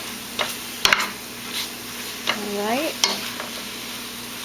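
Onions and greens with rosemary sizzle in a hot pan as a utensil stirs and scrapes, with a few sharp knocks and a short squeal over the steady frying; a voice briefly speaks.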